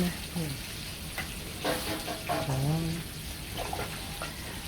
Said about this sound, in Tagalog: Ayan po si Kikay, naghahalo ng pancit nananaguan.